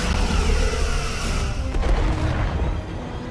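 Starship weapons fire and explosions in the Star Trek: Resurgence video game, a dense continuous rumble of booming blasts and crashing impacts that stays loud throughout and eases slightly near the end.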